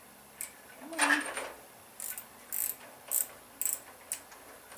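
A fine-tooth ratchet clicks in quick bursts while turning intake manifold bolts on an 1800 Mini stroker engine, close and crisp, several short rattling strokes separated by brief pauses, with no talking.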